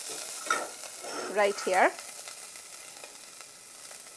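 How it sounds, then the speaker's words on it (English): Onion pieces sautéing in a pan while being stirred, a steady soft sizzle with a few louder scraping stir strokes in the middle, close by, with a brief spoken remark. "30 seconds of sauteing these onion pieces"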